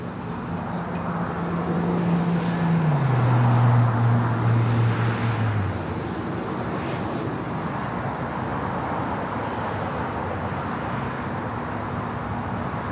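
An airliner takes off from runway 24 right at LAX, a steady, broad jet roar in the distance with a tone that swells and then descends before fading into continuous ambient noise.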